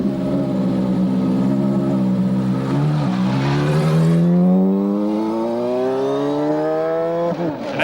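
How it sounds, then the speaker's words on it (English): A loud Indycar racing car with a manual gearbox drives hard on track, its engine note climbing steadily through the revs with a brief dip at a shift before rising again, close and dominant. "As his confidence in the car grew and he got used to a racing car with a manual gearbox again, so the lap times fell."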